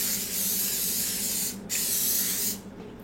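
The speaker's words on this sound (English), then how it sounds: "we are going to put some cooking spray on here" Cooking spray hisses onto a 10 by 15 inch cookie sheet in two steady bursts of about a second and a half each, close and loud, with a short pause between and no talking.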